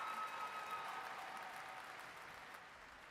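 A convention crowd applauds award finalists at a state FFA event, a soft, distant wash of clapping in a large hall that slowly fades away.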